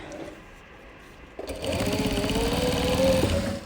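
A sewing machine stitches in a zipper, starting after a quiet pause with a close, rapid, steady mechanical chatter that runs for a couple of seconds before slowing.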